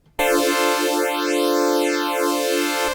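An Arturia MiniFreak synthesizer tone runs through its phasing filter with no feedback, a bright sustained note whose hollow notches sweep slowly up and back down, loud and steady for about three seconds before cutting off.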